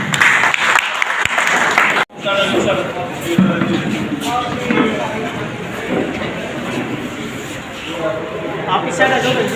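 An audience at a Congress party constituency (mandal) meeting in Lohani, Toshams area, breaks into applause after a sharp pause, the clapping running on beneath voices and crowd murmur.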